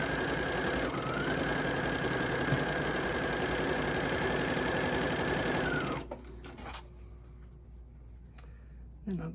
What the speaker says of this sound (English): then I'll go back after and chain stitch them going the other way